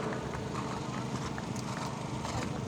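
Hooves thud steadily and rhythmically as a CRPF soldier rides his horse Commission during an equestrian display at an academy inauguration in Jaipur, a continuous clip-clop heard at moderate distance over outdoor crowd noise.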